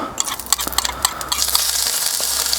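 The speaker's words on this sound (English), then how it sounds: "our garlic and ginger to get that oil fragrant" Garlic and ginger sizzle in hot oil in a pan on a Kamado Joe Classic II grill, a steady frying hiss broken by sharp scraping stirs and utensil clinks, close and fairly loud with no talking.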